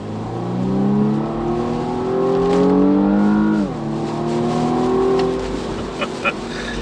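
A BMW M135i xDrive engine revs loud and close, its pitch climbing through gears with a sharp drop at a shift, then rising again.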